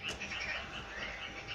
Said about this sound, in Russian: Лягушки квакают.